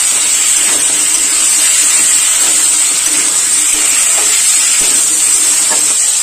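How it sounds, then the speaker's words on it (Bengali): Taro pieces sautéed with spices in a pan for a rustic fish curry, a steady loud frying hiss running throughout with faint scraping stirs now and then. "মশলার সাথে গাঁটি কচু ভালোভাবে কষাই করে নেব"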